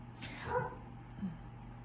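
Dog barking in another part of a home, a couple of short muffled barks or yips over steady background hum, faint and somewhat distant, with no talk over it.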